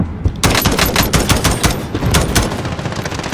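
Automatic gunfire in Call of Duty Warzone Plunder, loud and close, a rapid rattling stream of shots that continues unbroken throughout.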